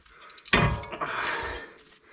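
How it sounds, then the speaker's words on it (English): A worn brake pad on a Subaru is pried loose from its caliper, giving one sharp metallic thunk followed by a short scraping rattle, close and loud. "Go ahead and pop your brake pads off."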